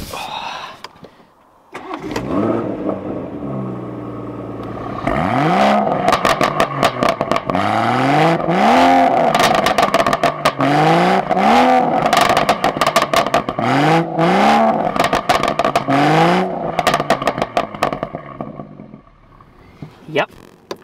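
A BMW M140i with its GPF filter deleted starts and revs repeatedly, rising and falling engine sweeps with crackles between blips, loud and close, settling toward idle at the end.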